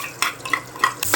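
Garlic being stirred in a hot pan for pork steak: a few quick, close scraping strokes of a utensil against the pan over a low, soft sizzle.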